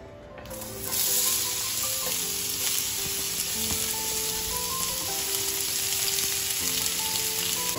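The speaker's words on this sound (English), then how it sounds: "we're gonna add all of our chopped onion and our garlic" Chopped onion and garlic sizzle in a hot pan, a close, steady frying hiss that starts suddenly and holds at an even level, with faint music underneath and no talking.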